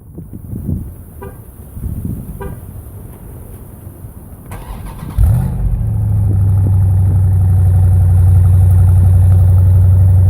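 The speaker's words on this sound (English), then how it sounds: "this car sounds awesome, obviously, because it's got the 392 Hemi in it, and it's just a big block V8 still" A Jeep Grand Cherokee SRT with the 392 Hemi V8 is cranked and fires up midway with a sharp flare, then settles into a loud, steady, deep rumbling idle. Light handling noises come before the start.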